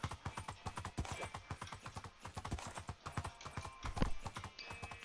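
Horse hooves clip-clop in Minecraft at a steady, rapid rhythm of sharp, close clicks that runs throughout, with no talking.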